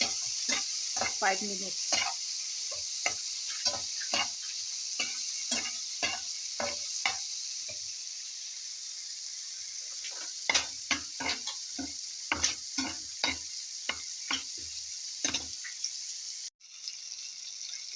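Garlic frying in a pan gives a steady sizzle while a utensil stirs and scrapes it in repeated clicking strokes; a voice speaks briefly.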